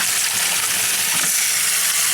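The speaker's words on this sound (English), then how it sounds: "get the hot water going in my sink" Hot water streams from a sink tap in a steady, bright hiss that holds loud and unbroken throughout, with no voices over it.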